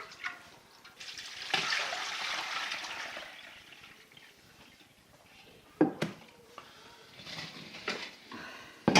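Sea buckthorn water kefir with whole berries poured from one vessel into another, a steady liquid splash and gurgle that swells and fades, followed by a few sharp clinks and knocks of the containers.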